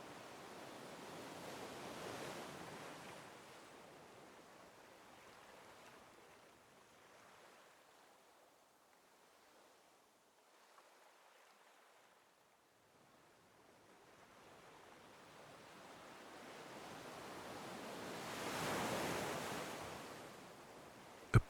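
Ocean waves roll onto a sandy shore, swelling into a soft wash near the start and a louder surge near the end, with quiet lulls between.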